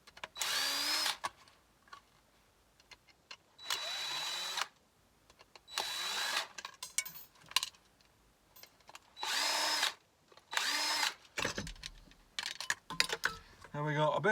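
Power drill backing screws out of an appliance casing: several separate whirring bursts of one to two seconds each, fairly close and clear, with clicks and handling noise between them.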